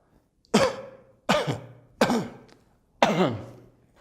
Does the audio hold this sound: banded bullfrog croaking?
no